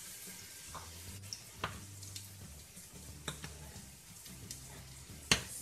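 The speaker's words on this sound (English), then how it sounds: "we are going to add the garlic, onion, and the jalapeno. Let it fry in the oil for a while." Garlic, onion and jalapeno frying in oil, with a soft, steady sizzle that runs throughout and a few sharp ticks and utensil clinks scattered over it, plus a low hum underneath.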